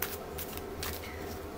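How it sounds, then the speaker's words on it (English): Tarot cards being shuffled by hand, a close, quick papery riffle with soft repeated flutters over about a second and a half. "I shuffle mine so, you know, the aces aren't all in one."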